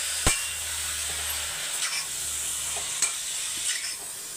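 Marinated chicken sizzles and steams in a hot pan, a continuous close hiss broken by a few sharp scrapes and knocks of a spatula as it is stirred, no talking.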